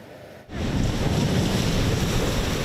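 Big hurricane-driven waves crash and splash over shoreline rocks at a Connecticut beach, a steady loud roar of surf with heavy wind noise that swells in abruptly after a brief quieter moment and then continues without a break.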